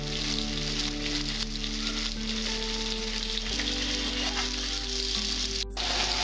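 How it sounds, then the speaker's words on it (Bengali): Prawns fry in a pan with a constant, dense sizzle and crackle, heard on their own with a low steady hum beneath and no talking. "আমার চিংড়ি মাছ ভাজাটা হয়েছে"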